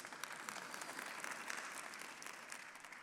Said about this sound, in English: Thank you for the clap, yes.